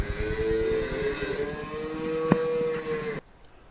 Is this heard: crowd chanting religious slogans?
no